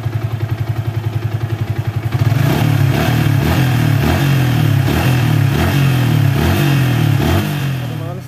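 A Yamaha Vixion motorcycle engine runs close by with a steady rapid idle thump, then rises and throbs in a series of rhythmic revs, loud and alone, with no voices.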